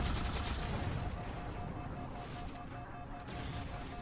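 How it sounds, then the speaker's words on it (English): A fuel rod cannon round strikes the player in Halo 4, a loud blast-like burst at the start that fades into a rumbling, crackling wash with a thin steady tone running underneath. "I kind of get hit by a fuel rod cannon round"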